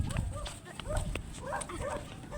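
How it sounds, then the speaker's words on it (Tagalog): Dogs barking on a beach, a few short barks mixed with scuffling and movement, with faint voices in the background. "Ayan na yung mga aso."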